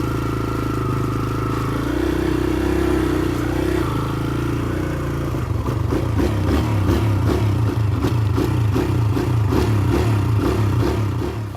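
A new dirt bike engine runs close and loud, a steady motor drone at first, then after a few seconds a rapid, rhythmic clattering pulse like revving, continuing to the end with no talk.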